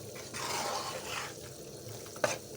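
Aata halwa ingredients roasting in a pan, a soft sizzle with scraping stir strokes in short bursts, quiet and close, ending in one sharper clink.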